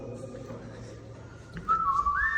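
Someone whistles a few rising and sliding notes near the end, clear and close over a low background hum, following a quieter stretch.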